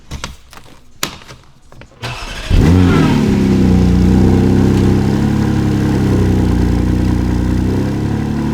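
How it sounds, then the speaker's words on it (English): Porsche GT4 RS sports car engine roars loud and close after a brief quieter stretch, then holds a steady, strong drone while driving, with the pitch rising and settling under continuous acceleration. "now driving back home in my brand new GT4 RS"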